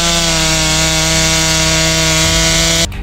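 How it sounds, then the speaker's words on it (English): A Stihl MS-880 chainsaw with a 6.4-horsepower engine and a 36-inch bar runs loud and close, a steady buzzing engine drone that drops in pitch near the end before cutting off abruptly. "The Stihl MS-880 isn't just a chainsaw."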